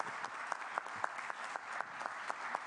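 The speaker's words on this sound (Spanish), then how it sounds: "y otro aplauso para Enrique Díaz Bravo" Conference audience applauding in a hall, a steady wash of many hands clapping with sharper individual claps standing out, continuous and fairly even for a few seconds.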